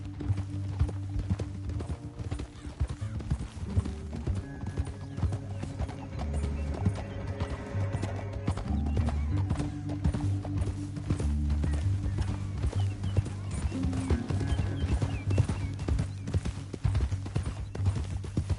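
Horses gallop through the Western video game Red Dead Redemption with steady, rapid hoof clip-clops, snorts and whinnies over a continuous outdoor background with music, with no talk.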